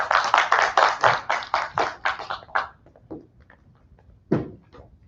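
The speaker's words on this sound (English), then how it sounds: "give Dan Klefstad a round of applause" A short burst of audience applause at a literary reading, a few hands patting in a quick rhythm, fading out after a couple of seconds, followed by scattered thumps.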